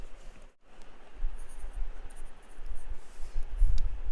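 Pen scratching across paper while writing out a math solution, soft irregular strokes at low level over a quiet room hiss.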